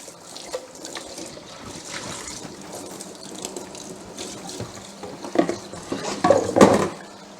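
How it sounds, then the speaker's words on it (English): Water runs from a tap as a Magimix food processor bowl is rinsed in a sink, a steady splashing wash that grows louder and clatters near the end. "So just give it a rinse straight away."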